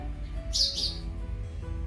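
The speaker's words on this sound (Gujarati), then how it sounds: "જો ચકલીને બોલવાનું ચાલુ થયું" A sparrow at home gives two quick, high chirps in succession over a low background hum, moderately close and fairly soft.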